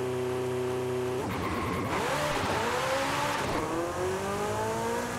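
A modified Porsche Carrera S idles, then launches hard under launch control. The engine revs loud and close, climbing through rising gear pulls with a brief tire squeal and no talk.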